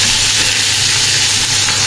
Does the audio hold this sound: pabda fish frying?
yes